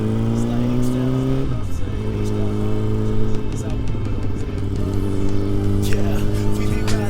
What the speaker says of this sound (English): We are taking the bike out for a quick test.